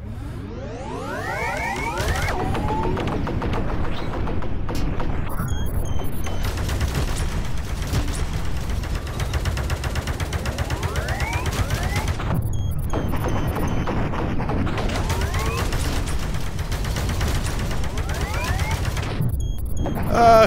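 Rapid bursts of laser-style gunfire from the VR game Space Pirate Trainer repeat loudly and almost continuously, dense volleys with brief gaps between them.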